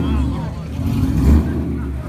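A loud car engine rumbles and revs close by at a car meet, a deep throaty roar that swells briefly, with voices talking over it.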